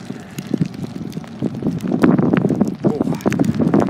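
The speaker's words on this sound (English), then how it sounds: "Oh, wow, that's windy." Wind rushing past while riding a onewheel along a sweeping road, a steady broadband roar with gusty swells that builds louder toward the end.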